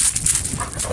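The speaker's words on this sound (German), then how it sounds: "was hat da der Hunde da?" A dog whimpers and yelps in a short, fairly loud burst, with a few high whines over low rustling background noise and no talk.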